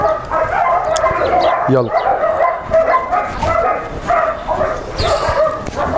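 A young puppy about 35 days old gives short yips and barks, mixed in with people talking nearby throughout.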